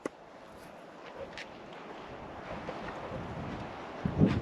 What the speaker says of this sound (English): the wind's in as well